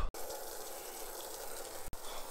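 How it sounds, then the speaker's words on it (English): Steady water pouring into a newly built backyard predator pond, a continuous broadband rush heard alone with no talk, briefly interrupted by two short gaps. "We are adding water."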